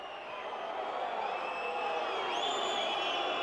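Basketball arena crowd at a Hungarian women's cup semifinal in Pécs protesting, a continuous roar of voices and whistles that swells slightly toward the end, with shrill whistle tones rising above the din.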